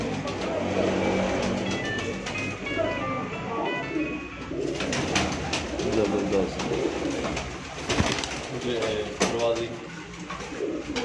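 Parwazi pigeons coo on a rooftop, soft repeated calls mixed with other bird sounds and light background noise, while someone speaks briefly over them.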